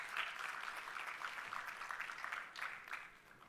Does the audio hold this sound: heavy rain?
no